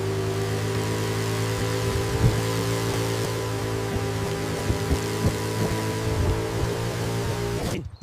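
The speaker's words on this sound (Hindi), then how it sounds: "ये बाइक ज्यादा आवाज कर रही है" A Royal Enfield Bullet motorcycle idles loudly nearby with a deep, steady throbbing hum and faint rhythmic thumps, running unbroken until it cuts off abruptly at the very end, with no talk.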